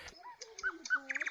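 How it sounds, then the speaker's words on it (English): A pet bird calls close by in a rapid run of whistles, squawks and chirps, ending in a quick series of sharp chattering notes, heard alone without talk. "You might hear my bird"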